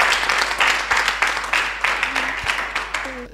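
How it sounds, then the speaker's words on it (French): A studio audience at a Radio Côte d'Ivoire sports broadcast claps steadily in a bright, dense patter. A voice briefly rises over the applause near the end. "En tout cas, on applaudit là."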